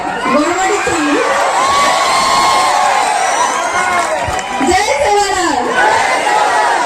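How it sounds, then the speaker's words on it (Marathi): Huge, dense crowd gathered at a Lengi festival in Sarkhani, Kinwat taluka, to see actress Rinku Rajguru, with continuous cheering, shouting and children's voices all around, swelling and dipping but never letting up. "रिंकूला पाहण्यासाठी तुफान गर्दी जमली होती"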